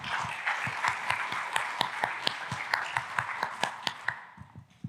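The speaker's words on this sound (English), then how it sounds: "a big applause to welcome Dominik on the stage" A conference audience claps for several seconds in a brisk, even rhythm, then the applause fades out quickly.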